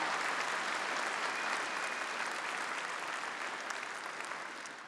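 A large convention crowd at CPAC 2018 gives Karen Pence a sustained ovation, a dense, even wash of many hands clapping that stays strong and slowly tapers toward the end, with no speech over it.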